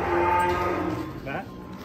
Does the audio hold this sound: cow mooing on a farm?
yes